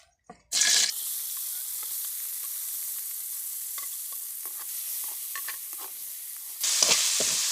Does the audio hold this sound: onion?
yes